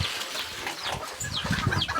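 Serama chickens cluck and chirp in short scattered calls at moderate distance, with some rustling underneath and no talking.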